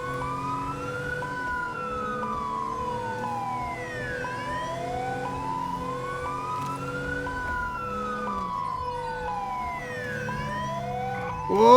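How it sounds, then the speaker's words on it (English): Wailing high-low and dual police sirens from an unmarked NSW VF Commodore in GTA 5 LSPDFR, two tones sweeping and alternating in overlapping cycles, loud and close over a low engine hum, with a sharp burst at the end. "We've got the high-low and the dual sirens going."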